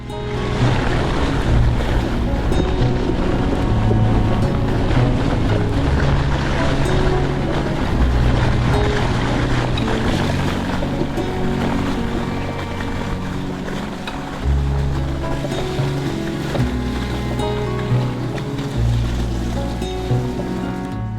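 Strong wind roars and buffets the microphone while cycling across a waterlogged field on a snowy day, a loud, unbroken rushing that swells and dips throughout.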